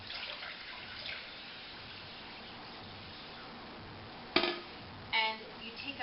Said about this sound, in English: you take this pitcher of water, pour it in a bowl